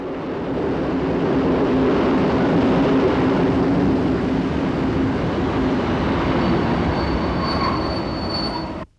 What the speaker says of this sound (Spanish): los trenes que paran aquí van impulsados a menudo por veteranas E636 tipo Bo, que datan de 1941, arrastrando un montón de pesados vagones